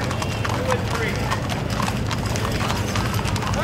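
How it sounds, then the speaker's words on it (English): Hooves of a rodeo committee's fifteen horses and riders clip-clop on pavement in an Old West Days parade, a steady dense patter close by, with crowd noise and talk mixed in. "The Copper Dust Stampede Rodeo Committee is on the way with 15 horses and riders."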